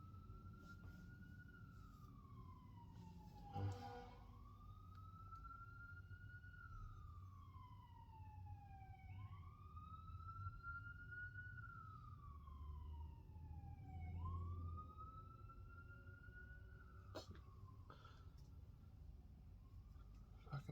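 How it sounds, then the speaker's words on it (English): Wailing emergency vehicle sirens sweep up and down repeatedly, distant and faint over a low steady hum of traffic. "Fucking sirens killing me."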